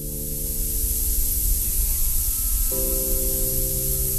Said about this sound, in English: The sounds you are hearing are the relief valves cycling old air out of the